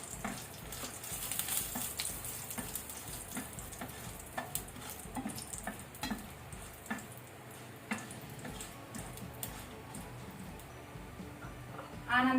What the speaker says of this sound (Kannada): ಆನಂತರ ಒಣಮೆಣಸು ಇದು ಸಹ ಸ್ವಲ್ಪ ಎಣ್ಣೆಯಲ್ಲಿ ಫ್ರೈ ಆಗಲಿ